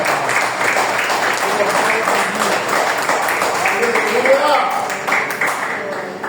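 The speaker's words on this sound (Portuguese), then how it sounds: "eu aplaudo Jesus. Eu aplaudo Jesus." A church congregation applauding during a Portuguese-language sermon, sustained clapping that merges into a steady wash, with a voice speaking over it.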